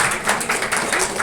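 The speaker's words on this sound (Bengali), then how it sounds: "জোরে হাততালি স্যারের জন্য একটা" Audience applause at the inauguration of a hospital's cardiac open heart surgery and cath lab, a dense, steady patter of many hands clapping close by.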